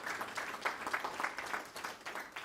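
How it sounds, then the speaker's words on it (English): Scattered clapping from a small audience, fairly faint and brief, with uneven claps rather than a full ovation. "Let's give them a round of applause."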